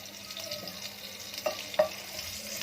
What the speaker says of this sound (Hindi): ये हमारा गर्म हो गया है तो थोड़े सा इसमें ज़ीरा डाल दें